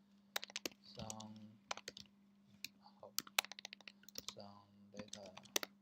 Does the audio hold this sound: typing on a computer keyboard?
yes